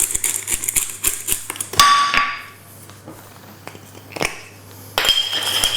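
Fresh black pepper ground over salmon and vegetables for oven baking: a run of sharp clicking and clinking bursts, some close together and others spaced out, with a brief brighter grind in the middle, no talk.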